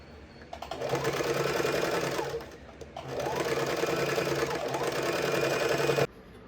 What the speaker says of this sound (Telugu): ఈ లైన్ పైన మనం స్టిచ్ చేసుకోవాలి